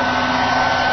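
A vacuum cleaner runs steadily at close range, a continuous loud motor whine and airflow roar with a low electrical hum beneath, holding constant with no voices.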